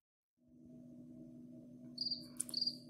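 A cricket chirping indoors in a house, short high trills starting partway through over a steady low hum, fairly faint.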